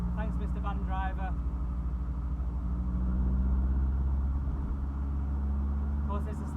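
A 1984 Vauxhall Cavalier GL with an SRi130 engine drives on a damp road, its steady low engine rumble and road noise filling the cabin, with someone talking briefly at the start and end.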